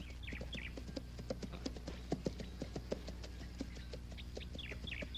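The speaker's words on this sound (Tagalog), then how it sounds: "Udas, Barabas, kunin niyo yung kabayo." Horse hooves clip-clop in a quiet, steady, irregular rhythm at a moderate distance, with birds chirping faintly in the background and no talking.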